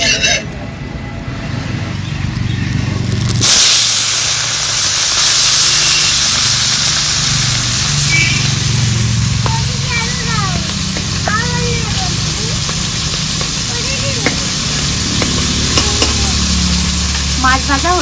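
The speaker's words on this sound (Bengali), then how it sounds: "মাছ ভাজা হতে হতে ততক্ষণে সবজিগুলো কেটে নেব।" Khoira and punti fish fry in hot oil with a steady, loud sizzle and crackle that runs throughout, with occasional stirring.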